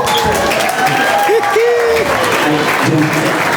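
Banquet audience at a marching band awards dinner applauding and cheering, dense continuous clapping from a large crowd with whoops and a voice rising over it, loud and sustained throughout.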